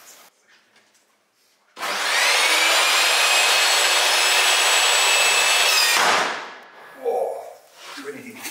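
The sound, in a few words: SawStop table saw cutting with blade raised high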